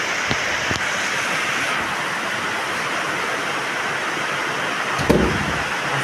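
Steady, loud rushing noise of wind, broad and continuous, with a couple of brief knocks and a short gust-like burst near the end.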